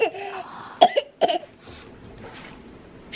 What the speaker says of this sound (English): Are you coughing so you can see yourself cough?